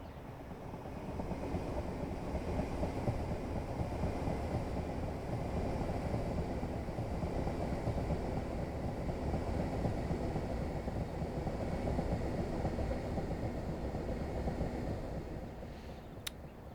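A train passes in Train Sim Classic on the Chatham Main Line, heard as a steady, continuous low rumble and rolling drone that holds level for most of the stretch before easing off at the end.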